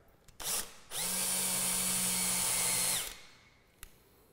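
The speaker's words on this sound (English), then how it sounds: "I've got this hole drill that will drill holes through that fabric" A hole drill whirs steadily through sail fabric for about two seconds, with a short burst just before it and a small click afterward; close and loud.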